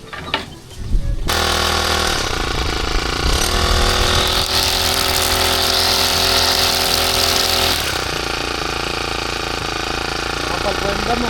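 A petrol grass cutter starts up and runs steadily, cutting grass beside a fishpond, its loud buzzing engine close by, holding a constant drone with a slight change in load partway through.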